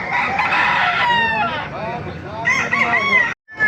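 A rooster crows loudly nearby at a market in Baliuag, a long wavering call, with other fowl calling and clucking around it before the sound cuts off abruptly.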